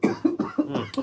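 Several short, harsh coughs follow one another in a rapid fit, close and fairly loud.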